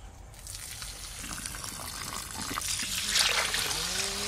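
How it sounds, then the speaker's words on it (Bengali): Water trickling and swirling as rice is rinsed in a bowl, a close steady wet splashing that grows slightly louder toward the end. "আরো 2বার ভালো করে ধুবো।"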